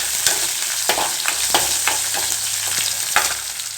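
Chopped big onion drops into a hot pan and fries with a loud continuous sizzle, punctuated by sharp scraping stirs at irregular intervals, with no talking.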